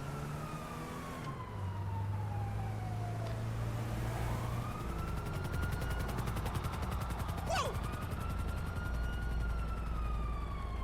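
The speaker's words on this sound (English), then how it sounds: "he was flying quite low then, the chopper" Police helicopter flying low in the video game GTA 5, a steady droning rotor hum throughout with a passing siren-like tone layered over it, fairly faint and continuous.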